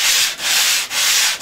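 An electric sander moves in long, brisk strokes over the polystyrene foam insulation of a model hull, giving a loud, close rasping hiss that swells and dips three times.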